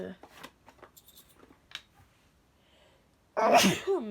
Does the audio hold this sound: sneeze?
yes